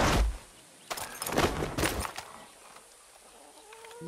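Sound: chickens clucking in the video game Far Cry 6

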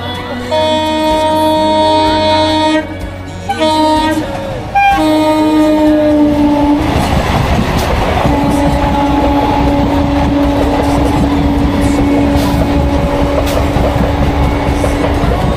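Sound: train at a railway station

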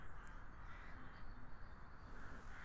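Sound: blackbirds cawing

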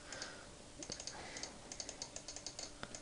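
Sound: typing on a computer keyboard

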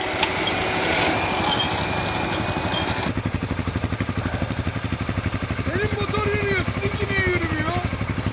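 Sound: Can-Am ATV engine revving on a snowy, icy road

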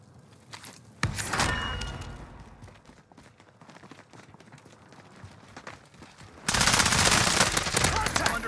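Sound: gunfire in a video game

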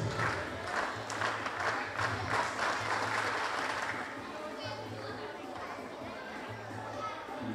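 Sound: teammates cheering an athlete on the long jump runway

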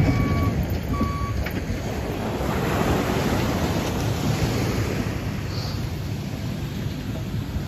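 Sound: ocean waves at the beach

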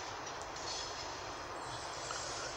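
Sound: Re 460 locomotive train arriving and stopping

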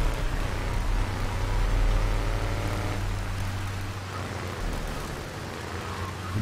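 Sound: rain in video game Grand Theft Auto III

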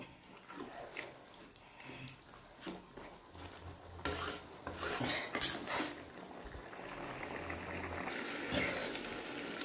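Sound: rice being scooped into a pot for biryani

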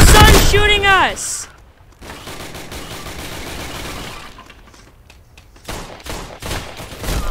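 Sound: gunfire in a war video game

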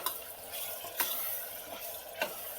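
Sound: water added to sizzling green beans and potato curry

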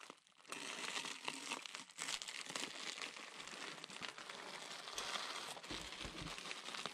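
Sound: packing tape being crumpled up

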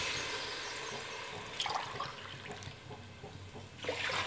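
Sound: water poured into rice for biryani

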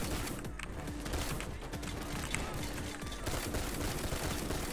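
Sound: full auto shotgun firing in a video game

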